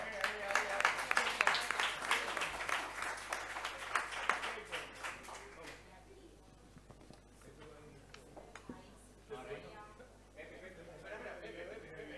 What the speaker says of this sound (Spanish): Un aplauso para los ganadores, ¿no?